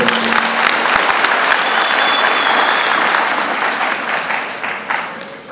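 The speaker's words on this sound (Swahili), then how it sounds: "Haya ni mafanikio makubwa ndugu zangu. Tupigie makofi." A crowd applauds steadily, loud and close, the clapping tapering off slightly toward the end.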